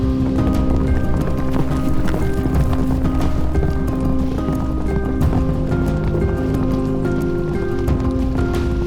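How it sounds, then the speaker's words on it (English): Yaks run across wetland grassland on the Maqu plateau, a dense steady drumming of many hooves, with a tonal layer running throughout. "The Yaks of Maqu also love running across the wetland grassland."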